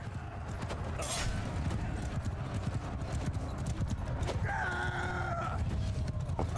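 Horse hooves in Mount & Blade II Bannerlord with the Eagle Rising mod, steady clip-clop over dense battle noise, with a brief whinny-like tone near the end.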